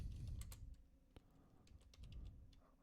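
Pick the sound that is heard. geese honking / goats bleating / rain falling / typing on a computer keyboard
typing on a computer keyboard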